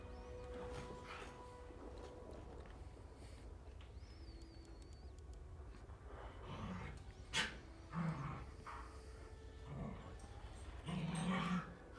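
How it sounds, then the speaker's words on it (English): Three pet dogs scamper about indoors in the background, giving off faint whimpers, yips and scattered soft barks amid low room noise and a bit of distant chatter. "you guys can hear my dogs running to and fro in the background"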